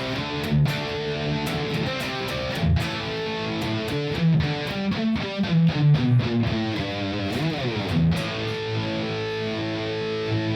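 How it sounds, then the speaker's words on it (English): An electric guitar played through a Fender Mustang Micro with chorus and reverb, strummed chords and picked notes ringing with a wavering shimmer and lingering tail, alone and fairly loud. "Next we have chorus and reverb."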